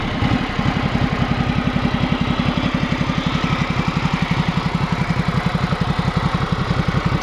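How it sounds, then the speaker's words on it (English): A Ducati Multistrada 1200 motorcycle engine catches and settles into a rapid, even, thumping idle, close and steady for several seconds with no talking. "And to start the engine, you then turn this, flip it up, and then press this."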